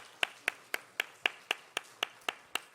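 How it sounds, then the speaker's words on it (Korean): A church congregation claps to welcome students at a Sunday service, about ten even, evenly spaced claps in a steady rhythm, moderately close and with no voices. "우리 박수로 환영하겠습니다."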